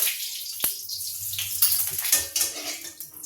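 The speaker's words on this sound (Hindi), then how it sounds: "आलू में थोड़ा सा पानी," Water poured into a pan of potatoes cooking in ghee, with a brief splash and hiss among sharp clinks of a metal spoon against the cookware, close and fairly loud, no speech.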